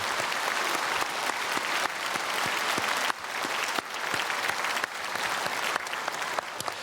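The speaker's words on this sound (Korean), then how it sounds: "박수로 축복하겠습니다." A church congregation at a Sunday worship service applauds the choir, with steady, dense clapping filling the sanctuary throughout, slight dips in intensity but no pause.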